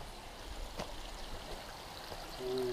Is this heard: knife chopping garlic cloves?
no